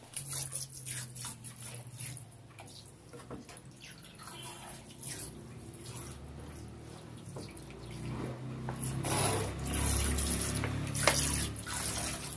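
Tap water runs into a pot for soaking raw chicken in a home kitchen, a steady splashing stream with drips that grows fuller and louder toward the end, with no voices.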